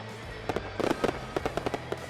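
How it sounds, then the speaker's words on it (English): Pre-match fireworks at a soccer stadium in Las Vegas: a quick irregular string of sharp pops and crackles, fairly close and loud, over a steady crowd-and-field background. "the America First Credit Union fireworks preceding the action"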